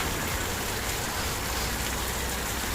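Heavy tropical rain pours down steadily as a dense, continuous hiss with no pauses or talking.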